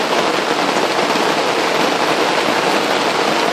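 Heavy rain pours down in a steady, dense hiss that stays loud and unbroken throughout, with no voices.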